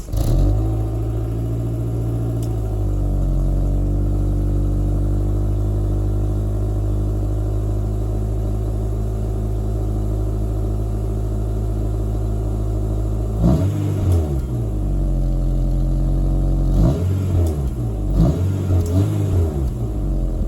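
An Acura RSX with a K24 engine and stock exhaust drones steadily at a low, smooth idle, then rises into several short revs near the end; the tone is mellow and not raspy, with no talk.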